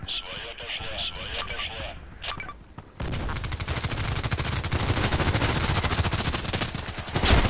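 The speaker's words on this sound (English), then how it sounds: "I have no idea where this shot was coming from." Rapid automatic gunfire from the Contract Wars shooter on the Terminal map, dense and continuous bursts that turn sharp and loud partway through, with a voice talking over them.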